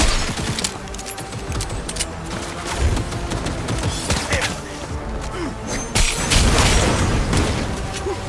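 Chaotic Cyberpunk 2077 firefight with overlapping shots, impacts and crashes in a continuous loud din, with a louder flurry near the end and occasional voices mixed in.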